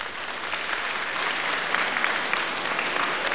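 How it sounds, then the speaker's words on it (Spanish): A crowd applauds at a formal honorary session of a legislative chamber, steady dense clapping from many hands filling the hall at an even level without pause. "Un aplauso, por favor."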